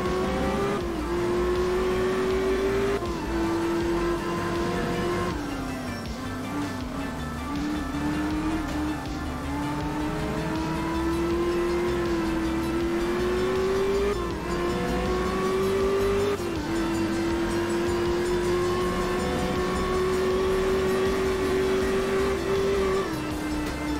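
A BMW M1 Procar rally car in Art of Rally drives hard through a fast section, its engine holding a loud sustained drone that rises and dips with brief shifts, continuous and close throughout.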